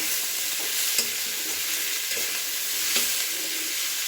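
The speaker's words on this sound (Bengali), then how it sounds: "এবার আমি দিয়ে দিচ্ছি স্বাদ মতো নুন আর একটু হলুদ, দিয়ে আবার ভালো করে নাড়াচাড়া করে নিচ্ছি" Vegetables with salt and turmeric fry in a pan with a constant sizzle, while a spoon stirs and scrapes through them in short strokes roughly once a second, close and clear without any talking.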